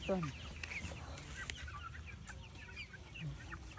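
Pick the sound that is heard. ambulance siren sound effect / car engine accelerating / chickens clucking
chickens clucking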